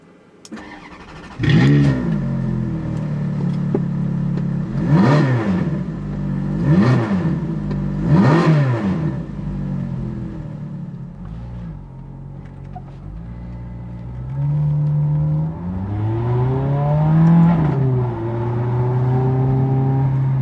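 A Ferrari F430 engine starts and revs sharply several times in rising and falling bursts, then settles into a throaty idle before pulling away.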